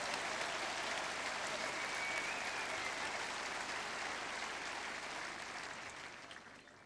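A large crowd at the 1994 Berlin German Open tennis final keeps clapping in a broad, dense wave that gradually thins and fades toward the end, with no voices over it.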